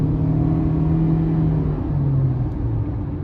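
A 2023 Honda CR-V EX with the 1.5-litre turbo engine and AWD accelerates on the road, giving a steady low engine rumble and drone with a slight shift in pitch partway through.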